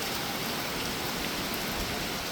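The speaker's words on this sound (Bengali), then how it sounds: "মারাত্মক লেভেলের ঝড় বৃষ্টি উঠেছে," Heavy storm rain pouring down in a dense, unbroken hiss, loud and constant throughout with no voices.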